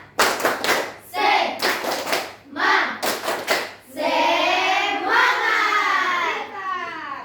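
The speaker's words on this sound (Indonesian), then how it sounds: "marilah kita tepuk semangat" A primary school class performs a rhythmic spirit clap, bursts of loud, patterned group clapping alternating with children's voices chanting together, close and lively.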